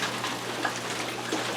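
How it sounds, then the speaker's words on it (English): Rainwater pours steadily from a roof gutter during heavy rain, a continuous close splashing wash with a low steady hum beneath it and no talking. "we're getting a lot of rain. That's coming out of my gutter off my roof."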